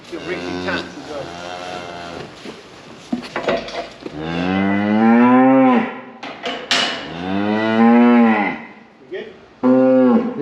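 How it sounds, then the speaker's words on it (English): A nearly twelve-year-old Hereford cow moos loudly and close by in a farmyard, two long drawn-out lowing calls with shorter grunts and clanks between them. "This Hereford here is nearly 12 years old."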